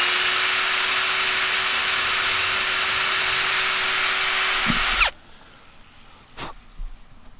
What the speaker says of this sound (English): drilling into the roof of a 2018 Raptor